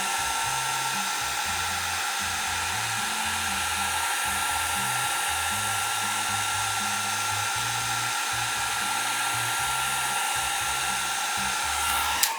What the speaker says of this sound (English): So I decided to try the blow dryer instead.